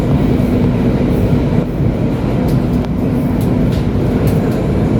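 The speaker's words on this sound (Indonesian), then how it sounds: "Balapan dengan KRL ini nih, kayaknya di JR 204 nih." A KRL commuter train of the ex-JR 204/205 series runs close by near Tambun station, making a loud, steady rumble of wheels on rails with occasional clicks and no voices.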